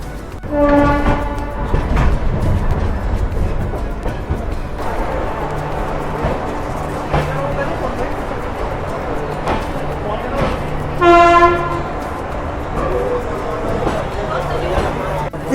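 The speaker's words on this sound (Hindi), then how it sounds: "अब यहाँ से इस डायरेक्शन में ट्रेन चलना शुरू होगी।" Indian Railways sleeper class train getting underway, with repeated loud horn blasts, a low rumble and rattling carriage noise throughout, and people talking over it.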